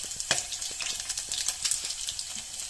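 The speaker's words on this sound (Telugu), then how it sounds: "ఆయిల్ వేడెక్కిన తర్వాత వెల్లుల్లి రెబ్బలు వేసి జీలకర్ర," Garlic cloves and cumin seeds frying in hot oil, giving a close, steady sizzle scattered with sharp crackles and pops throughout.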